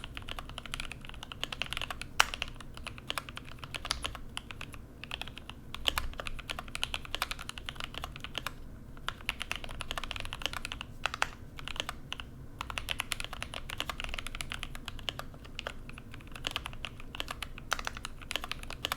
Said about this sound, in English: And here's the typing test.